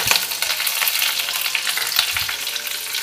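Black mustard seeds and curry leaves sizzle in hot oil, giving a busy, crackling hiss with quick pops and spatters throughout, close and fairly loud.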